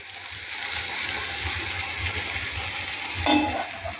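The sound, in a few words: garelu (vadas) frying in oil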